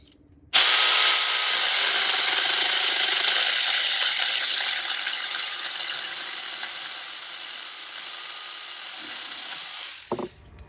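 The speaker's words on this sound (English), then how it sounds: "test out the mini chainsaw on this ficus stump" A Saker mini electric chainsaw whirs up and cuts steadily through a ficus stump about two inches thick, its loud high-pitched whine easing slightly as it works, then stopping with a short clunk.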